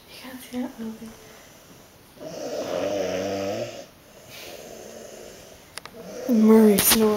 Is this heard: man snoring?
yes